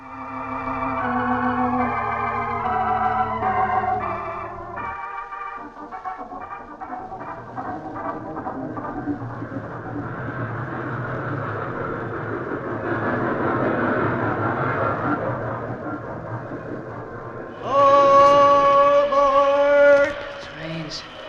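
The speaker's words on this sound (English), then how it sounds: "Still hear trains." A train rumbles past in a 1947 radio drama, with a long, droning roar, pitch shifting as it goes, then a loud horn-like tone near the end.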